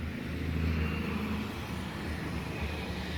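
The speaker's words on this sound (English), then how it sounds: "we got a big truck going by" A big truck rolls past outside, a steady low engine and tire roar that swells slightly and holds at moderate distance, with no talking.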